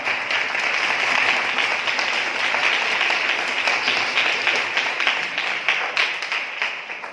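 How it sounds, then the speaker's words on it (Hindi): Sustained applause from a crowd, dense and steady clapping throughout, gradually thinning toward the end. "हम जोरदार तालियों से उनका स्वागत करें।"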